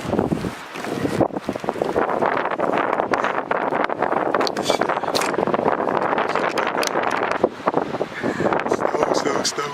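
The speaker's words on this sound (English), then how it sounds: "Windy." Gusty wind blowing outdoors in falling snow, a continuous rough roar buffeting the microphone close up, with a person briefly talking over it.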